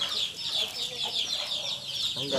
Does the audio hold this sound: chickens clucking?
yes